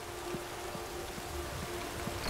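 Rain falls steadily in The Witcher 3, a faint, even patter with soft drips tapping at irregular intervals, heard alone without voices.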